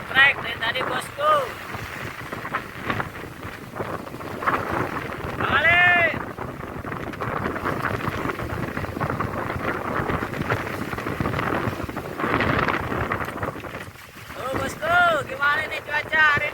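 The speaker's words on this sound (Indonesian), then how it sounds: "Cuacanya sangat ekstrem. Angin sama ombaknya bergejolak." Strong wind and rough sea waves buffet a small fishing boat at a bagan lift-net platform off Tanjung Kait, with steady roaring gusts against the microphone and sloshing water while people talk.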